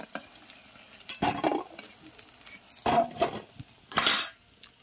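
Chicken pakoda frying a second time in hot oil in a village kitchen, a soft sizzle broken by several louder bursts of stirring and scraping in the pan.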